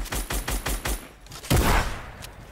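A rapid burst of about six gunshots in quick rhythm, then a louder single blast with a rumbling tail, close and punchy Fortnite gunfire.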